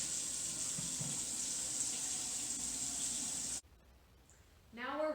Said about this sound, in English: Before we handle the food, we wash our hands.